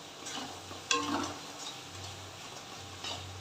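Spice paste for a Bengali bottle gourd and prawn curry, seasoned with salt and sugar, being stirred and fried in a pan with splashes of water: a soft, close sizzle with scraping stir strokes and a few sharper clinks.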